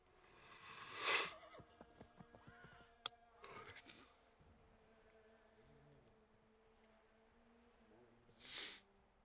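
Horses in Assassin's Creed 3 whinny loudly twice, once near the start and again near the end, with snorts, soft hoof clops and quiet rustling in between, out in snowy terrain.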